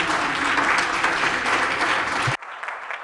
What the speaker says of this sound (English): Yes, applause for our panelists.